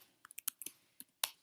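Number keys on a TI-84 calculator are pressed in a quick, uneven run of about nine sharp, light plastic clicks, close and clear against near silence.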